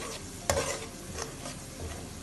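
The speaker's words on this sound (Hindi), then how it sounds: "यानी मीडियम आंच पे अब मैं इसको भूनूँगी" Eggplant curry with yogurt gravy frying in a pan over medium heat as it is stirred, with a soft steady sizzle, a sharp scrape or clank of the spoon early on, and light stirring continuing quietly alone.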